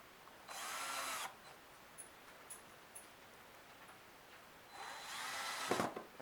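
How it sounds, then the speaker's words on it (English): A power drill pre-drills screw holes in wood while a platform bird feeder is built, two loud whirring bursts close by, each lasting under a second, with quiet between them and no talk. "if you're using wood, you're definitely going to want to pre-drill the holes"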